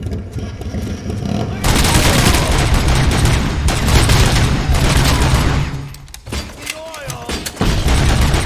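Dense, loud video game gunfire in rapid bursts keeps up almost without a break, with one brief dip before the shooting resumes.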